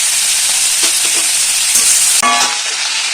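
Chopped tomatoes and capsicum fry loudly in a pan with a dense, steady sizzle close up, a few soft scrapes of stirring breaking through.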